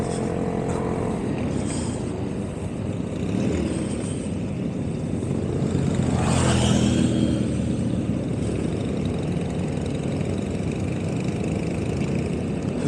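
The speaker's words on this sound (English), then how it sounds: "First time I've ridden this bike and not been able to hear the exhaust, because there's so many other exhausts to hear" A group of motorcycles rides together, and many exhausts and engines make a steady, dense roar all the way through. It swells a little near the middle as a bike passes close by.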